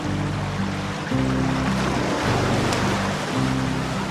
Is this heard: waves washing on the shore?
yes